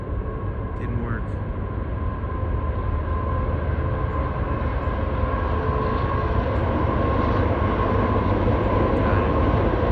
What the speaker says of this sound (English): Got it. Freight train.